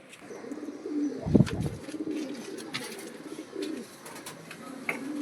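A black pigeon coos softly in a loft, one low throaty coo standing out near the start amid faint chirps, light rustling and soft background murmur.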